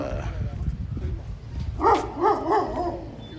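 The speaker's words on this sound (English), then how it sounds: "there's some more barking dogs." A few dog barks ring out in a short cluster, fairly close, after a stretch of low background rumble and murmur.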